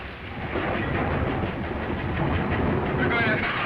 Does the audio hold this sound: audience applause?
no